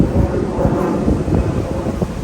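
Steady outdoor wind gusting and buffeting the microphone, a loud continuous low rumble that swells and eases throughout with no pauses.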